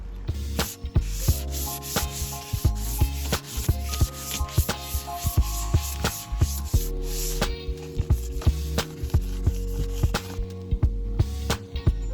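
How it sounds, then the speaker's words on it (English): Sanding a car bumper during bodywork on a Honda Del Sol, a steady close rubbing and scraping that runs the whole time with rhythmic strokes and no talk. "I'm gonna have to really get in there and sand it down"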